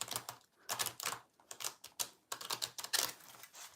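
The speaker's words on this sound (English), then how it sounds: "I'm gonna have to riffle these again." A deck of cards riffled and shuffled over and over, giving dense bursts of crisp, rapid flicking and rattling, near and fairly soft, broken by short pauses.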